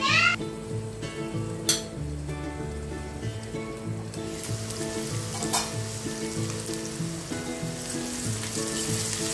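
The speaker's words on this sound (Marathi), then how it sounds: "एक 2 मिनिटं आपण झाकण ठेवून कांदा शिजवून घेऊया अगोदर" Onion cooking with salt in a covered pan for zunka, a steady close sizzle and crackle running throughout alongside a faint tonal background and a few sharp clinks.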